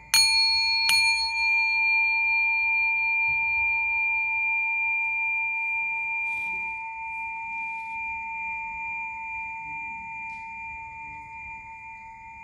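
A Japanese ceramic bell, collectible pottery, struck twice near the start, each strike a bright ding followed by a long, steady sustained hum that rings out alone and fades slowly over several seconds.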